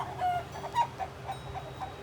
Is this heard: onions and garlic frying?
no